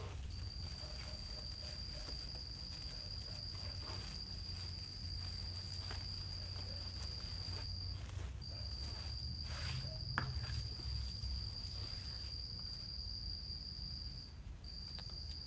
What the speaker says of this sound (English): What's the noise in the background? It's a cricket.